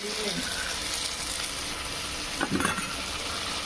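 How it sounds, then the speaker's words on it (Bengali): Tomato paste frying in a pan for chilli paneer, giving a steady close sizzle with a brief burst of stirring and scraping past the midpoint. "দিয়ে এটা আমি কষবো"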